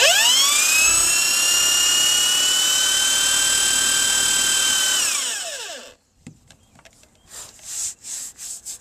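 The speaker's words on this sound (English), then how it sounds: "So if you just get your screw up to speed, if it's going to spin out, it's going to heat up, make its own hole" A power driver spins a screw at full speed into plastic composite deck boards, a loud steady high whine for about five seconds that winds down and stops, followed by faint scraping and brushing sounds.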